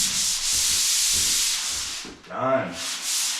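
Drywall being sanded to feather a joint edge, heard as repeated close scraping strokes with a steady rhythm, a brief pause, then more rubbing; a voice briefly speaks near the end.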